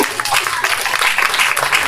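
Audience applause fills a lecture hall, a dense steady patter of many hands clapping for a couple of seconds, close and fairly loud.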